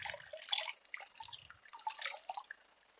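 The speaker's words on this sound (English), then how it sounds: "we raise our leg, pour water onto it" Clean water poured from a vessel over a raised foot and dripping off, a few soft splashes and trickles in quick bursts, close and fairly faint, with no talking.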